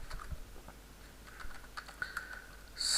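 Light, rapid keystrokes on a computer keyboard while typing ActionScript 3.0 code, a quiet, irregular patter of clicks that gets somewhat louder toward the end, with no voices.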